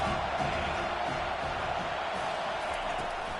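Steady, dense roar of a football stadium crowd cheering for the home defense on a big third down, a constant wall of distant voices with no breaks and no single voice standing out.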